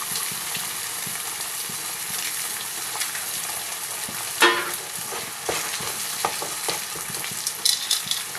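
Eggs frying in a hot pan for chowmein, with a steady close sizzle and occasional louder crackles and stirring scrapes throughout, no voices.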